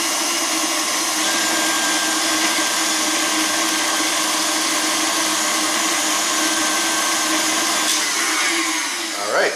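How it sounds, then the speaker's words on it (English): An electric mixer whirs at a steady, loud pitch while blending lemon crinkle cookie dough in a bowl, running continuously without pause and ending with a faint knock. "I'm going to continue mixing this just until everything's well incorporated"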